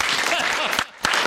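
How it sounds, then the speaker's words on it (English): A high school class breaks into a short burst of applause and cheering, dense clapping that dips briefly and then resumes. "Everybody give him a round of applause."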